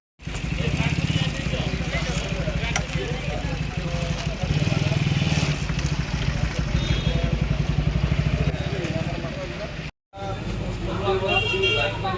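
Motorcycles of an Independence Day bike rally led by police in Assam, a loud continuous engine roar with repeated horn toots close by, under a man's loudspeaker announcement, with a brief cut near the end.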